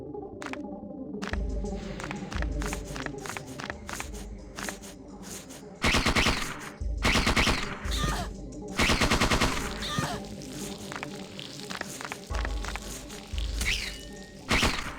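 Parasite Eve II gameplay with the secondary weapon firing in rapid automatic bursts, loud and close, set against a humming, throbbing background.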